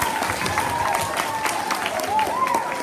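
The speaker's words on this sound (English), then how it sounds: "Everybody clap." Elementary school children at an anti-bullying assembly clap together in a lively burst of applause, with some crowd noise and voices mixed in.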